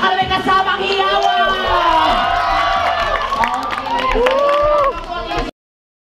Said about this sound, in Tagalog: parinig naman po ng isang malakas na palakpak na may kasamang hiyawa!